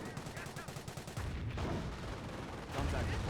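An Axis artillery barrage in Company of Heroes sounds as rapid distant gunfire bursts followed by heavier, louder booming impacts rising toward the end, with faint speech underneath.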